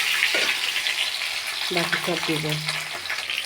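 Taki fish frying in a pan, a bright continuous sizzle and crackle under a woman's brief spoken words.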